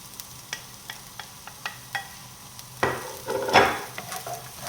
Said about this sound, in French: on va cuire nos oignons. Enfin, on va les faire suer exactement